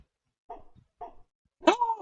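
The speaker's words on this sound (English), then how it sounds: "It barks!" A giant corgi in a video game barks: two short yips followed by a longer, higher bark-whine, clean and close with no other sound.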